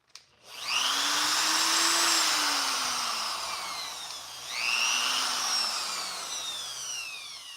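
A rotary tool fitted with a carbide burr bit cuts a slot in hard steel, its high whine rising and falling in pitch through two long, close grinding passes.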